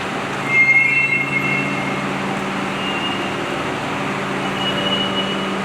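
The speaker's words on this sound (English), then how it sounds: "That's the sound of these drum brakes." Aftermarket drum brake shoes squealing on a car, a thin sustained high-pitched whine running steadily through the clip over low rumbling background noise.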